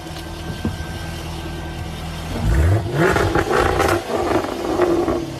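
A brand new Jaguar car engine revs up, a rising growl swelling midway and holding loud for a few seconds over a steady idle hum, with no talking.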